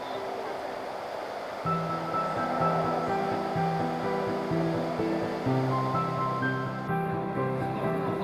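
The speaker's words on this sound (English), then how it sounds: "it is the beginning of the American Rapids" The American Rapids at Niagara Falls rush in a loud, continuous roar of turbulent water near the point where the river heads over the falls, steady throughout, with a low rumble underneath joining partway in.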